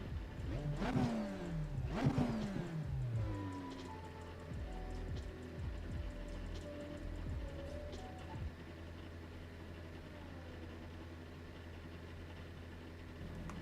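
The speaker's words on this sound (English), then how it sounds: "Let's just see if you can hear the car now." A race car engine in the iRacing sim during a wet-weather drive revs up and down sharply twice early on, then settles into a quieter, lower running rumble, faint overall.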